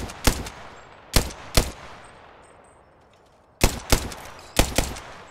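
Video game gunfire from the player's weapon rings out in sharp, close bursts, with two or three quick shots at a time separated by brief pauses, each crack trailing a short metallic decay.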